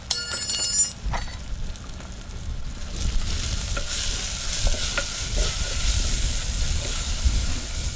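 Turmeric, coriander-cumin powder and salt are stirred into hot oil in a pan, giving a steady sizzle and frying hiss with scraping stirring strokes, close and continuous, with no voices.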